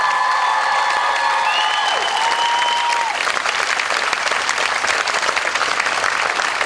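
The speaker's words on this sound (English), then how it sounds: "Can we have a big round of applause for every single pupil?" A school audience gives sustained, loud applause for pupils after a winter show, dense clapping with a few cheers and sung or whistled notes fading in the first half.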